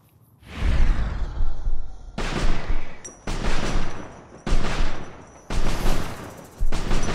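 Gunfire from an inaccurate gun in Fallout: New Vegas, fired in five or six loud separate bursts with short gaps between them and no talk over it.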